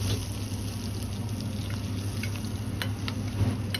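Hot rapeseed oil poured over ginger, garlic and chili, giving a steady, close crackling sizzle with scattered sharp pops, holding at an even level throughout without talk.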